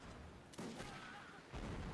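Cannons fire during a siege battle in Mount & Blade: Napoleonic Wars, two faint, distant booms about a second apart over low background battle noise.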